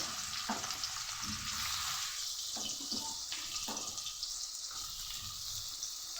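Chopped chicken and onion fry in hot oil with a couple of bay leaves, giving a steady, close hiss and crackle that runs the whole time, with a few clinks of stirring.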